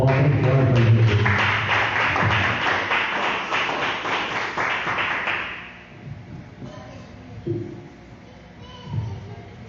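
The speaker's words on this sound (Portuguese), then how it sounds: "Vamos receber o grupo com uma salva de palmas para Jesus." Applause from a church congregation at an evening worship service greets a worship music group, a dense wash of clapping that lasts about six seconds before fading into quieter room noise and scattered thumps.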